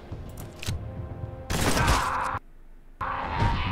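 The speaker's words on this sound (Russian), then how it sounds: "Так, давай-ка попробуем выстрелить." Gunfire and explosive impacts in the tactical video game Mutant Year Zero: Road to Eden, with loud broadband bursts separated by brief silences and a booming shot around the middle.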